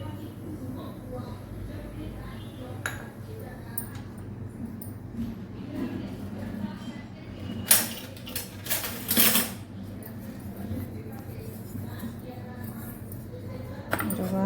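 Semolina roasting in melted ghee is stirred in a pan, with repeated metal spoon scrapes and clinks over a low steady hum, plus a few louder knocks against the pan.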